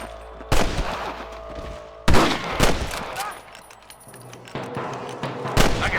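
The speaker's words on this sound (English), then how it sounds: "I can hear more gunshots." Bursts of gunfire in the Red Dead Redemption game crack out in several loud volleys, with rapid shots and scattered reports echoing between them.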